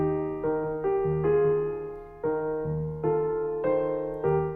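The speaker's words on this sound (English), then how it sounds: "This would feel a lot different if we announced each downbeat" A lofi hip-hop left-hand piano line with every downbeat announced plays alone for one measure, a run of evenly struck low notes and chords sounding heavier and more square.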